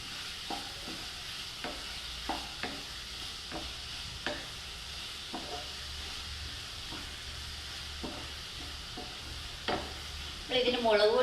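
Ginger garlic paste with crushed pepper sizzles steadily in a hot pan while a spoon stirs it in repeated scraping clicks, close and fairly quiet, with a brief louder burst near the end and no talking.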